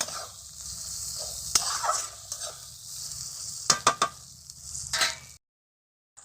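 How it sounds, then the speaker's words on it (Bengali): Fish frying in hot oil gives a steady close sizzle with scattered sharp pops and spatters, then drops suddenly to silence near the end. "তো বন্ধুরা দেখো মাছের তেলটা হইতেছে"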